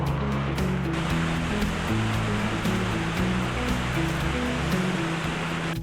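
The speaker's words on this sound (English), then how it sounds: "This is the bank of the Volkhov river" The Volkhov river, wide with steep banks, rushes steadily along its bank in a loud, continuous broadband wash, with a low droning hum underneath.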